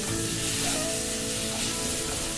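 Rice with eggs and vegetables being stir-fried in a hot pan, a dense, continuous sizzle that fills the whole stretch, close and loud, with faint scraping of the spatula as it is tossed evenly.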